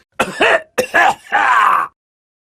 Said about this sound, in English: The old man coughed.